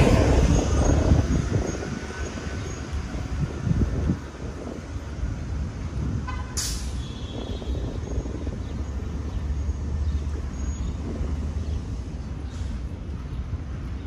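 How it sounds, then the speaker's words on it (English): Train rumbling a couple of blocks ahead on elevated city tracks in the Bronx, New York, a steady low roar that runs the whole time with a brief high screech partway through and street noise mixed in. "Yeah, the train is in front of me."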